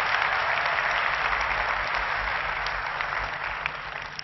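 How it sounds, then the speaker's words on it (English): Large keynote crowd at a gaming presentation claps steadily, a thick continuous roar of many hands that stays loud and then eases off slightly near the close, without talk over it. "Could you applaud if you just liked it?"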